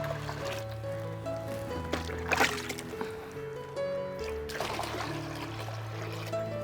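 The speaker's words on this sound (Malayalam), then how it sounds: "നമ്മൾ ഒരു രണ്ടരട്ടിയോളം വെള്ളവും കൂടി ചേർക്കാം" Water poured into a homemade organic fertilizer slurry, a close splashy pour in two bursts with trickling between, no voices.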